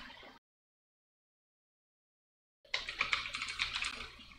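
Rapid keystrokes on a computer keyboard rattle along in a dense, close burst after a brief pause of silence, steady and fairly loud with no talking.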